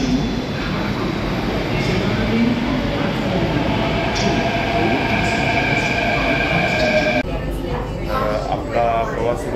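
Inside a Mumbai metro train running from Versova toward Ghatkopar: a steady, loud rumble of the moving carriage fills the clip, with a brief squeal-like shift near the end and faint speech underneath.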